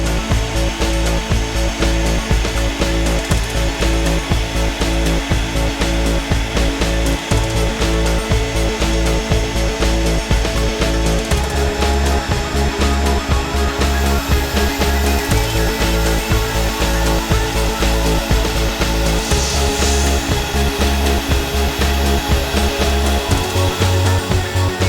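A CNC machine mills aluminium parts for a robot dog with coolant, producing loud, close, continuous rattling and grinding with a shifting low drone and bursts of harsh cutting noise, without any talking.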